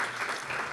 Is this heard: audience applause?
yes